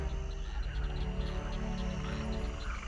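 Frogs croak in a dense, continuous chorus under a steady insect-like trill, forming an ambient swampy backdrop for a Talespire tabletop D&D session; no voices.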